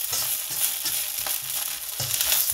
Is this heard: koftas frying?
yes